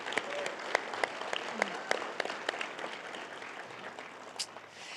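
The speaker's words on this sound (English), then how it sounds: "Let's give a huge round of applause to our Mesa Middle School winners." Audience at a sports awards luncheon bursts into applause, a dense crowd of sharp hand claps that peaks early and gradually thins out toward the end.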